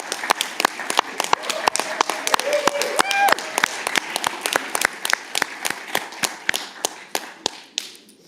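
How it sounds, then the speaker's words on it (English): A small group gives a short round of applause for the honorary president at an election meeting: sparse, sharp individual claps in an uneven rhythm that slowly thin out, with faint talk in the background. "let's give a round of applause to Tilly."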